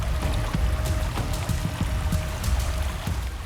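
Flowing water of the Shalmala river, a steady rushing stream with gurgling and splashing that continues evenly for several seconds, fairly close and without any voices.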